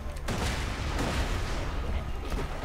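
Continuous rumbling gunfire with heavy grenade booms layered in, dense and loud throughout, a chaotic Borderlands 2 battle.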